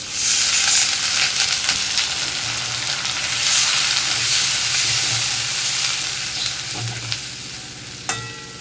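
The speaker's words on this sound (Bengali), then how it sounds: "টমেটোটা দিয়ে আমি একটু ভাজা ভাজা করে নেবো" Tomato frying in a pan over a low gas flame with a splash of water added: a loud, continuous sizzle with soft stirring scrapes and a sharp utensil clank near the end.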